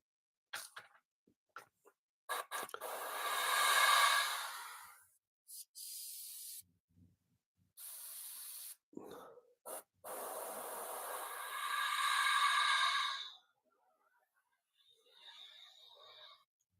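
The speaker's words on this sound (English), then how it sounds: "this is going to be noisy because the compressor is going to kick off like it just has done, and the airbrush itself" Airbrush spraying in bursts of airy hiss, some long and some short, with clicks and gaps between them and a faint compressor hum at the end, heard during a scale model kit build.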